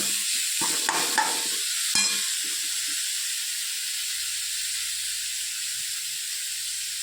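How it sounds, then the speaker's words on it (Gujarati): Potatoes tossed into a frying pan with boiled peas and stirred, giving a steady faint sizzle and hiss with a few scraping knocks of the spoon early on. "બધા બટાકા આવી રીતે નાખી દઈશું અને મિક્સ કરી દઈશું"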